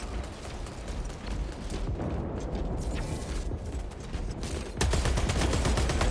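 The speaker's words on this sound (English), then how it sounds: "Frag grenade out" Frag grenade blast in Warhammer 40,000 Space Marine 2, a sudden loud burst that cuts in over steady, noisy combat gunfire and rumble.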